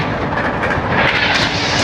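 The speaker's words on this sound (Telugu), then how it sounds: "మన Mysore super fast express train overtake చేయబోతుంది కాచిగూడ నుండి మధురై వెళ్ళే సూపర్ ఫాస్ట్ ట్రైన్ని" Mysuru superfast express train overtaking another superfast train heading from Kacheguda to Madurai, a steady loud rail roar with rumble and rushing noise throughout, no voices.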